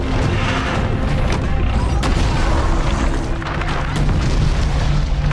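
An underground gas pipe explodes beneath a street: a loud, continuous deep rumbling roar fills the whole stretch, like a sustained blast, with crackling bursts layered on top.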